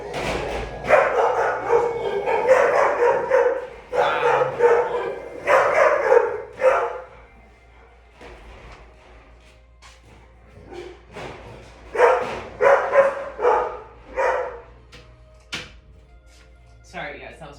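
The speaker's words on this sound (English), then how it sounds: "that was my grand dog. I got a delivery and she's got to protect me" A pet dog barks in repeated bursts at a home delivery, close and loud, with pauses between volleys and a voice talking in the gaps.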